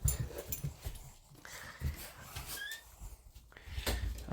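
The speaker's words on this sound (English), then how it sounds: "these dogs are going nuts" A puppy whimpers and plays with another dog indoors, giving soft, thin whines and squeaks between scuffling and bumping sounds, faint and intermittent.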